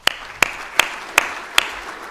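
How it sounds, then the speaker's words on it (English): A handful of single claps ring out one by one at a steady, sparse rhythm from an audience thanking a conference panel, each sharp and separated by quiet. "Maybe one more round of applause for the panel."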